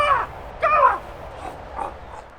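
Crows give loud, harsh caws close by, two strong calls followed by fainter ones, over a quiet background.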